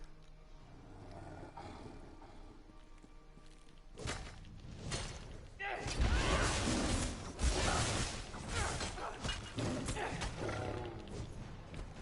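A big cat roars in a video game, low rumbling growls building into loud, heavy roars with thuds and whooshes of combat, after a quieter stretch of ambient game sound.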